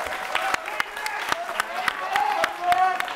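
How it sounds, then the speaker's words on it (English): Scattered clapping from a small crowd at an airsoft show, mixed with cheering and voices talking. "round of applause for you guys"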